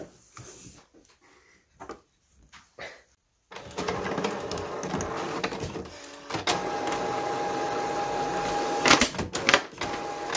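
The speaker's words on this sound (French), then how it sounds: "Et comme ça, on va la regarder imprimer de l'intérieur." A sticker printer is heard from inside with its cover open. It starts with a few light clicks in near silence, then settles into a steady, close mechanical whirring and rattling that runs to the end.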